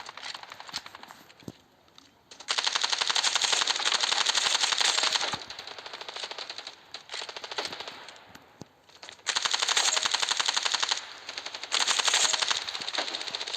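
Rapid automatic gunfire from the mobile shooter Standoff 2, loud bursts of several seconds each separated by short pauses and single shots, with no talking.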